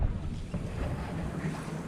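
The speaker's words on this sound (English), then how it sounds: "Wind's dying down a little bit." A sailboat under full sail in light wind off Catalina, with a steady low rush of wind across the microphone and water washing along the hull, fairly quiet and continuous.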